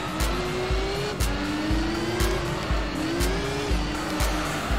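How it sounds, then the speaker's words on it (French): Car tires squeal and skid in Gran Turismo 3, with a steady racing engine drone underneath and repeated rising squeal streaks plus periodic sharp bursts, loud and close with no talking. "Je dérape trop."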